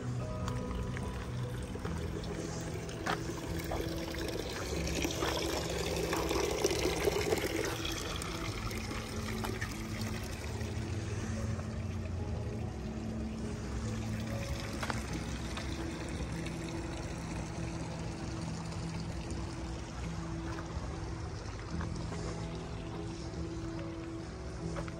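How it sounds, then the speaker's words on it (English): Fountains at a garden center trickle and splash continuously at moderate distance, a steady watery wash with ambient outdoor noise and no talking. "Let's see the fountains."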